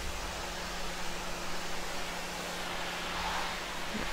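In Farming Simulator 2015, a pressure washer sprays a dirty tractor weight with a continuous, loud, even hiss of water that holds steady throughout.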